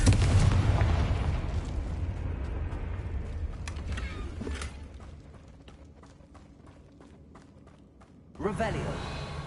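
A Confringo fire spell from Hogwarts Legacy on PS5 bursts with a loud rumbling explosion that decays over several seconds, then another heavy blast erupts near the end.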